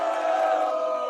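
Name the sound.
crowd cheering sound effect from a soundboard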